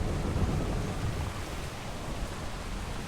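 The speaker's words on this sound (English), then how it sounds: "the storm should be ending soon" A cyclone at sea in the video game Atlas: dense, steady rain roars with a deep rumbling undertone, a continuous wash of storm noise with no voices.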